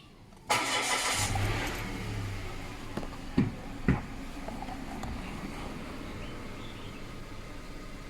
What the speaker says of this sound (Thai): เอาทีนี้สตาร์ทเครื่องดูดิ